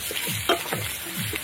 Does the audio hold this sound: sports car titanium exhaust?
no